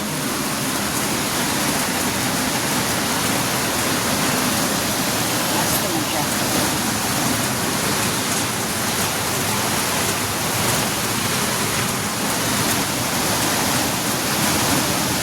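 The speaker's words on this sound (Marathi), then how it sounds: "बाहेर मस्तपैकी पाऊस पडतोय" Heavy monsoon rain pours steadily in Mumbai, a dense, unbroken hiss that stays even and loud from start to finish.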